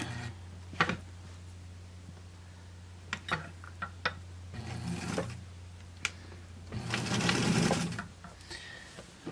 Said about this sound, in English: I'm just going to do a little top stitch over the top of that